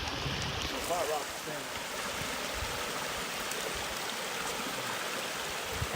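A mountain creek in the Strawberry Mountain Wilderness of Oregon flows as a steady, broad wash of running water, close and continuous, with voices and brief movement briefly audible over it.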